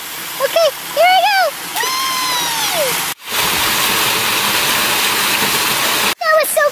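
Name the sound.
diving into swimming pool, water splash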